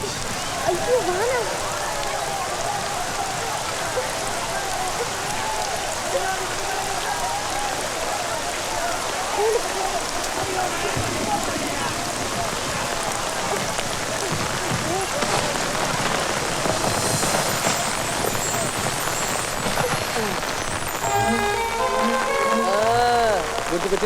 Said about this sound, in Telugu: అయ్యో వాన.